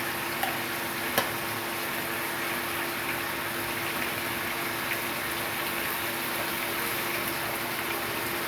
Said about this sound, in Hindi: अब ये जो फ्राई हो रहा है